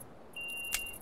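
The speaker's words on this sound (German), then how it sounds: "sorry wegen dem Gepiepe, ich muss mir unbedingt andere Bissanzeiger holen" Electronic bite alarm on a fishing rod in the Russian Fishing 4 video game gives a single sustained high-pitched beep lasting about half a second, clear over a quiet background hiss.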